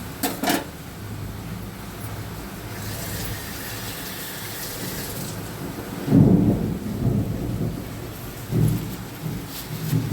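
Thunder rolls and booms over steady rain on a rainy day, with a loud rumble about two-thirds through and a second one near the end, while the rain hiss continues throughout.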